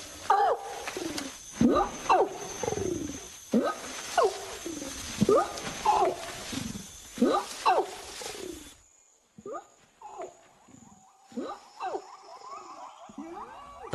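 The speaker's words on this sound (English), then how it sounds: "calls of monkeys and apes are the signature tune of these western forests" Monkeys and apes call in an Indonesian forest, a rhythmic series of rising whooping cries repeating every second or so, carrying loud then briefly dropping before fainter calls resume over a high insect-like drone.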